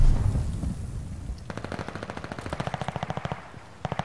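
Call of Duty Vanguard gunfire comes as a rapid, evenly spaced automatic burst that follows a low rumble, loud and close, then stops briefly before a few more shots sound at the end.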